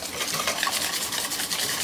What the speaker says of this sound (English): Just whisk that up, I think for about 2 minutes.